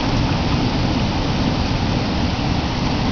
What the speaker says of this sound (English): Rolling thunder. I hope it's rolling thunder.